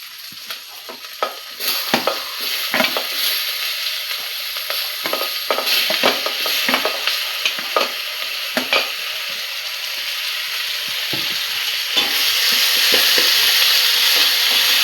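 Tomatoes sautéing in oil for a vegetable kuzhambu curry give a loud, constant hissing sizzle that grows slightly toward the end, punctuated by frequent sharp stirring scrapes of a ladle in the pan.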